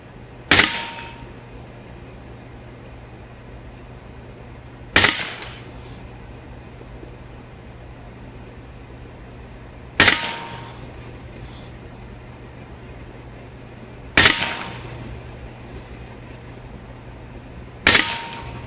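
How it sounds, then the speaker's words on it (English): Shots from a Western Airguns Mordax Venom Longstrike air gun, five sharp cracks spaced about four to five seconds apart, each a crisp snap with a short tail, loud and close over a faint background hum. "there's the other 6 shots, so it should be 1 mag."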